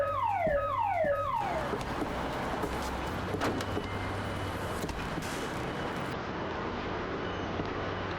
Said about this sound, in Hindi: 13th और 14th फ्लोर पर फायर अलार्म बज रहा है।